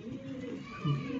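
Pigeons coo softly in a loft, a low throaty coo rising near the end over faint background rustle.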